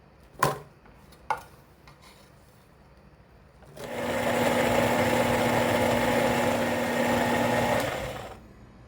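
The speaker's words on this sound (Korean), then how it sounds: "믹서기에다가 쉽게 갈아서 만들 거예요" Two sharp knocks, then a loud steady motorized whir with a droning hum as a blender grinds onion, running for about four seconds before cutting off.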